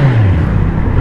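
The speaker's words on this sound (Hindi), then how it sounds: "यहाँ बाइक गूंज रही है।" Kawasaki Z900 motorcycle engine droning steadily and loudly on a road cut through mountains, its low rumble echoing continuously without a break.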